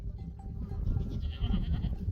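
Goats on a farm kept for milk and cheese bleat in a noisy outdoor pen, several overlapping calls rising over a steady low rumble of movement and background noise.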